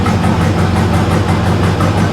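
An old 1957 Chevy engine idles loudly and close by while warming up, with a steady, low rumbling throb and a rapid, even pulse.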